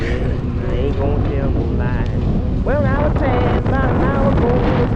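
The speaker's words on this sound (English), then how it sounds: "Oh my gosh. Incredible headwind." Strong headwind buffeting the microphone while cycling west on a road, a loud steady roar throughout, with a voice speaking over it.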